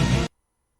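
Dream Theater's 'Pull Me Under' ending, with the final loud full-band rock hit chopped off abruptly and no reverb tail, dropping straight into dead silence after a fraction of a second.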